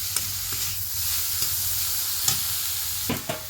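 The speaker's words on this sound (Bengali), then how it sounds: "বাঁধাকপিটা এর মধ্যে দিয়ে দেবো। বাঁধাকপিটা একটু নেড়ে চেড়ে নেবো।" Cabbage stirred and fried in a pan for bharta, a soft continuous sizzle with a few sharp spatula scrapes and taps, close and quiet.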